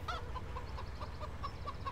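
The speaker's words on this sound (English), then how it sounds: "get away from the chickens because they're noisy" Chickens in the video game Farming Simulator cluck in a rapid, steady series of short calls over a constant low hum, with no one speaking.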